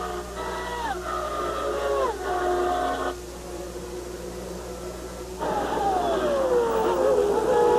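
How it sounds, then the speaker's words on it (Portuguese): Formula One car from 1994 Spanish Grand Prix qualifying accelerating, a high-pitched engine whine climbing and dropping through gear changes, with a second pass swelling in later; a commentator talks over it. "Acelera firme Alesi e vai buscar melhorar sua posição no grid"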